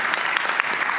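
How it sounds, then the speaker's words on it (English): The audience at a React team Q&A breaks into a brief burst of steady applause, fairly close and full. "You got applause for that one."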